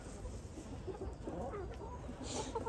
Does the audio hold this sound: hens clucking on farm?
yes